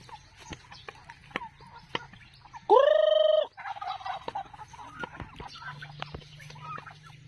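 A single loud turkey gobble at a farm with a fishpond, a quick rising warble lasting under a second, stands out over quiet background noise and scattered faint clicks.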